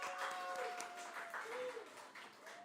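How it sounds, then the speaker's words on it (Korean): Applause from a congregation during a children's sermon in a church service, fairly faint and steady for under three seconds, with some voices mixed in. "박수."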